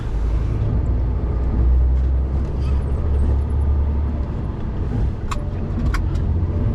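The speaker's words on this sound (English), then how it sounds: "I can still feel the weight when accelerating, that is for sure" A car towing a trailer accelerates with a steady, loud low engine drone and road rumble filling the interior, a few light jingling clicks rising briefly near the end.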